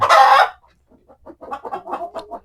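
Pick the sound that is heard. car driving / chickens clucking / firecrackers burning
chickens clucking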